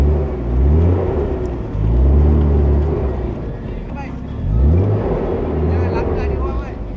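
A Nissan GT-R's engine rumbles and swells in a couple of rev surges as the car is moved, nearby and fairly loud under a lively crowd of voices chatting.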